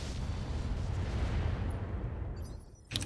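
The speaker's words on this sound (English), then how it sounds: "Fire the missiles." Missiles launch in the BattleTech mech combat game RogueTech, a dense continuous roar of rapid booming salvos that rumbles on for several seconds before fading, then a fresh burst at the end.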